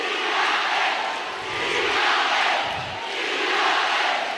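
A basketball arena crowd at a Philippine NBL Governors Cup game between Taguig and Pampanga roars and cheers steadily, the broad noise swelling and easing in waves.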